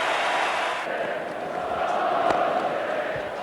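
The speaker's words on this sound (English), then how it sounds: "The crowd appreciate the captain's knock." Cricket crowd in a stadium at a one-day international applauding the captain's half-century, a steady distant roar of clapping and cheering with a commentator talking over it.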